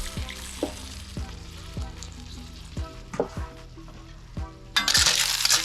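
Banisil fish with garlic, ginger and onion is stirred in a pan with coconut milk; a utensil scrapes in repeated strokes over a soft simmer, ending in a louder bubbling sizzle.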